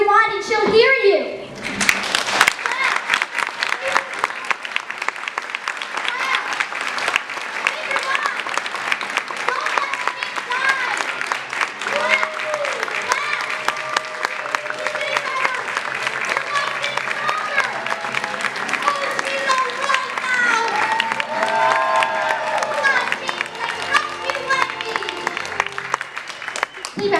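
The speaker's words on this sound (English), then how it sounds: "If you believe, wherever you are, clap your hands or wave your wand and she'll hear you." Sustained applause from a large theater audience, dense clapping continuing for a long stretch after a brief spoken line at the start, with occasional voices mixed in.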